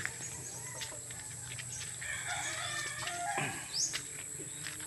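Gamecock roosters, more than twenty, crow at a moderate distance over faint background chatter and insects, with scattered clucks between calls, in the morning.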